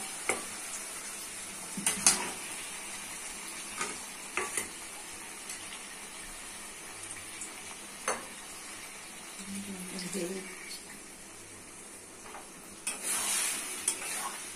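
Chicken and potatoes are stir-fried in a pan over a low, steady sizzle, with repeated scraping and knocking strokes of a spatula against the pan at irregular intervals.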